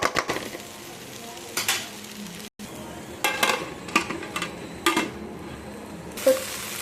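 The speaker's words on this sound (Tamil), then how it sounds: "இப்போ திறந்து திரும்ப நல்லா வதக்கி விட்டுக்கலாம்" Okra is stir-fried in a pan, with scattered scraping and clattering stir strokes over a soft background sizzle and a brief silent gap partway through.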